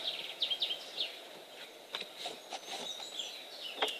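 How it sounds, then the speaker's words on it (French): Small birds chirp and trill outdoors on a sunny day, with short high calls repeating through the stretch over a quiet background. No talking is heard. "on entend encore les oiseaux, c'est super agréable"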